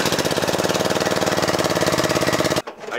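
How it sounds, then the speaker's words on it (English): A lawnmower converted into a slow, loud off-road machine runs steadily with a rough, rapidly pulsing engine note close by, then cuts off abruptly near the end, leaving a quiet rumble. "a lawnmower can easily be turned into an off-road capable machine, albeit a very slow and loud one"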